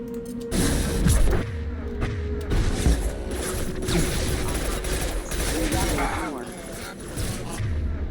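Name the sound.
gunfire in Mass Effect 2 video game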